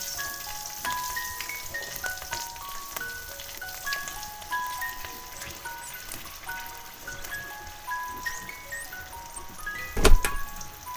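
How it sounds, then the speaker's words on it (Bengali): Panch phoron and slit green chillies sizzle in hot oil for a fish curry, a steady crackling hiss alongside faint melodic tones, with one sharp clatter near the end. "এবার আমি তেলে পাঁচ ফোড়ন আর দুটো কাঁচা লঙ্কা চিড়ে রাখা কাঁচা লঙ্কা তেলের উপর দিয়ে দিলাম"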